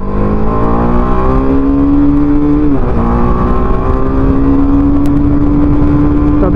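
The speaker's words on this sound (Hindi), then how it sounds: "86 किलोमीटर पर आवर की स्पीड पे ये जो रेव लिमिटर है वो हिट कर देता है" A TVS Apache RR310 BS6 motorcycle engine revs hard up to its rev limiter, a loud, close, sustained high-pitched wail that climbs, stutters briefly at the cutoff, then holds near the limit.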